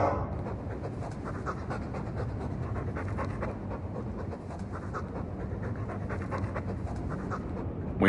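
A war dog in Dragon Age II pants steadily and close for about eight seconds, a quick, even rhythm of breathy huffs with no talking over it.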